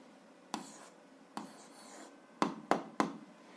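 Pen writing on paper in a quiet room, soft scratchy strokes with a few distinct taps and quick marks near the end, close and faint.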